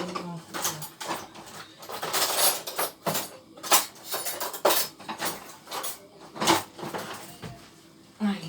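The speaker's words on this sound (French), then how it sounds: "je crois que je vais prendre un petit fouet là" Small metal kitchen utensils clink and rattle in a series of sharp, irregular clatters as a little whisk is picked out from among them while preparing a béchamel, close and fairly quiet.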